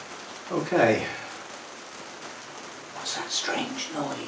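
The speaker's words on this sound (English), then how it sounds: "what's that strange noise? It's actually rain, and it's now been doing it for about an hour" Light rain falling outdoors makes a faint, steady hiss that runs through the whole stretch, with a person talking over it in two short bursts.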